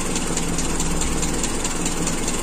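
A Toyota Kijang Super engine runs after its carburetor has been tuned, producing a loud, even idle with a low rumble and no break in the sound.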